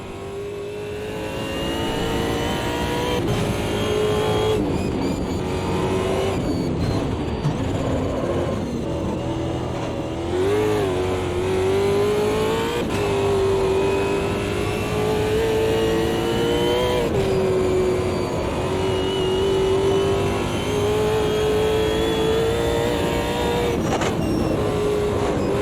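A race car engine in the sim racing game Automobilista 2 at Bathurst revs and shifts through gears, a loud sustained whine that climbs and drops repeatedly with brief lifts between pulls, heard alone.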